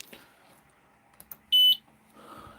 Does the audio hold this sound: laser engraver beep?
yes